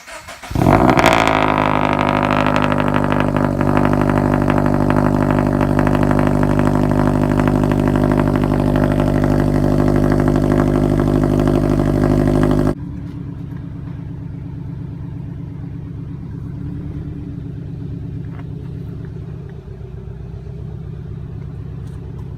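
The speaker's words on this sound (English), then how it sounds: "So let's go ahead and drive the car around" A car's engine runs steadily at a continuous drone during a test drive after suspension work, then drops to a quieter, lower rumble partway through, with no talking.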